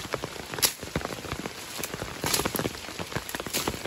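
Steady rain pattering on grass and foliage outdoors during cutting, a continuous fine hiss with scattered drops and faint footstep-like rustles, moderately quiet throughout.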